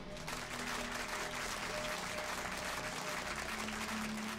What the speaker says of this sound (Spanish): un aplauso para Estefa.